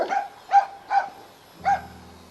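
Puppies yapping in a short series of four high, sharp barks, fairly close and clear, with a low rumble creeping in under the last one.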